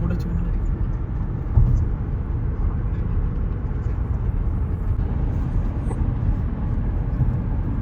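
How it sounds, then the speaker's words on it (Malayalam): An airplane passes overhead above a busy Karama street in Dubai at night, heard as a steady, low, continuous rumbling roar that fills the whole stretch, blended with street background noise. "ഒരു സൗണ്ട് കേട്ടാ മേലക്കൂടി ഒരു ഫ്ലൈറ്റ് പോയത്"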